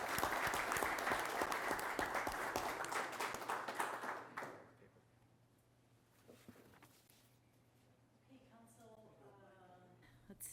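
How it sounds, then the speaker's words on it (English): Applause from the audience at a city council meeting, a dense burst of clapping for about four seconds that fades out abruptly, leaving quiet room sound with faint voices afterward. "All right, one more round of applause."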